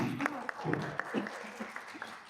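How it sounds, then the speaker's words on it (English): An audience claps for the speaker Sophie at a talk on sustainable high performance, and a voice is heard over the clapping. "ladies and gentlemen, a big round of applause for Sophie."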